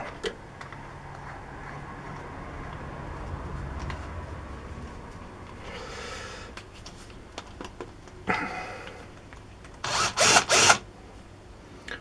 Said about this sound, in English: let's get the drill on.